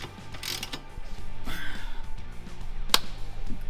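Metallic clicks and ratcheting turns come from bolting a part in place during an XB Coupe car build, a close run of mechanical ticks with one sharp metallic knock near the end.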